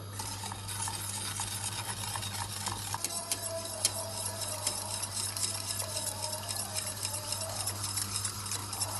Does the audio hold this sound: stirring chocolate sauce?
yes